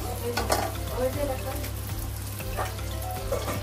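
Malabar spinach stalks cook in a pan for a prawn dish, a continuous bubbling sizzle over a low steady hum, with faint watery splashes and light stirring knocks.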